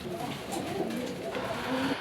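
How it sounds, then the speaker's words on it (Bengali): A pair of rare Chuina domestic pigeons coo close by, with soft, low, repeated throaty calls rolling on and off over a light background murmur. "এখানে অসাধারণ আরেক জোড়া কবুতর দেখাচ্ছি"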